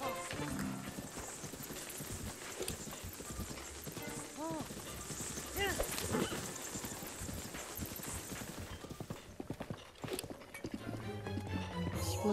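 Horse hooves gallop in The Legend of Zelda: Breath of the Wild, a steady, quiet clip-clop running under game music and effects, with a voice speaking over it.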